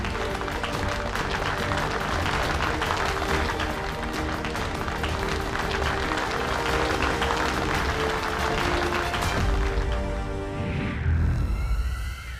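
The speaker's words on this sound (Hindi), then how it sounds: "इसी बात पे शूरवीर विवान के लिए जोरदार तालियां।" Loud, sustained applause from a crowd cheering a young hero in a fantasy TV show, dense steady clapping that fades near the end as a swooshing effect rises.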